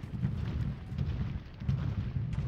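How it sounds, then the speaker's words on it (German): Massed musket and cannon fire in the Civil War strategy game Ultimate General, Port Republic battle: a continuous low rumbling roar of distant volleys, steady and dense throughout with no voices. "Jetzt höre ich das, was ich vermisst habe. Schüsse."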